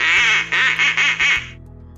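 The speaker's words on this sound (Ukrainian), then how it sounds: "Качка." A duck quacks in a rapid series of four or five nasal calls, loud and close, ending abruptly.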